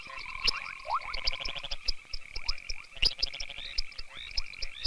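A dense chorus of great gray tree frogs in East Africa croaks and trills in overlapping rhythmic bursts, some calls sharp and clicking, others rising chirps, close and lively.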